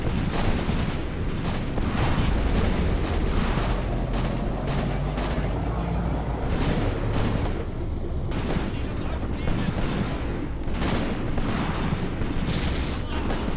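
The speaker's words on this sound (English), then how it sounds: "Look at those explosions!" Booming explosions and rapid gunfire-like blasts in a WW2 winter battle video game roll on continuously, dense and loud, with a person talking excitedly over the battle noise.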